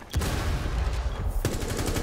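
Gunfire in Rainbow Six Siege, a dense burst of rapid close shots running almost continuously, with a sharp fresh volley breaking in near the end.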